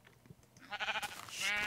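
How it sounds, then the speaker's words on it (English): A sheep in a video game lets out a loud, quavering bleat that rises toward the end, preceded by faint background sounds. "Stupid sheep."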